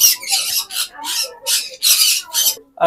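A parrot in a bird shop lets out a run of loud, harsh squawks in rapid bursts, close by, during feeding.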